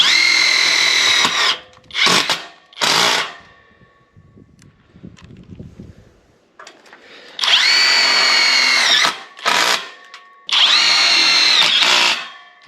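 A Hercules power drill driving self-tapping screws while building a carport, with loud whining bursts of varying length separated by pauses and quieter handling noise.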